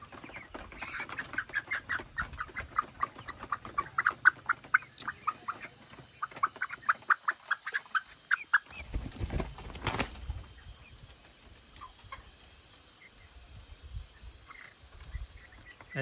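Rhode Island Red breeder chickens clucking close by, a rapid run of repeated clucks for about nine seconds, then a loud rustle and scattered quieter clucks afterward.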